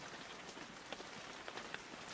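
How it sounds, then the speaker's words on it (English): Light rain patters steadily on a surface, a soft, even wash of drops with a few slightly sharper ticks standing out, heard alone without any voices. "It's still raining a little."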